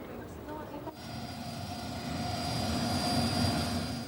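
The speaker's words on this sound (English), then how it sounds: "As the plane prepares for takeoff," A passenger airliner readies for takeoff, its engines giving a steady, fairly loud roar with a sustained high whine that builds slowly, and faint voices murmur underneath.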